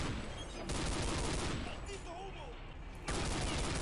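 Rapid gunfire in Counter-Strike: Condition Zero as enemies are shot, a dense, loud continuous burst of automatic fire filling the whole stretch, with a brief faint voice partway through.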